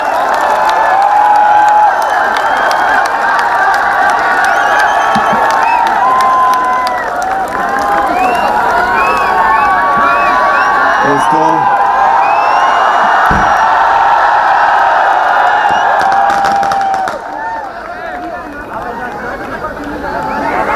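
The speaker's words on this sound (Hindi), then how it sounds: "तो जोरदार हाथ उठाकर ताली बजाइए, राहत साहब का इस्तकबाल कीजिए।" A large audience at an evening poetry event greets poet Rahat Indori with loud, sustained applause, cheers and whoops, a dense wall of clapping and shouting that swells and continues throughout, dipping slightly near the end.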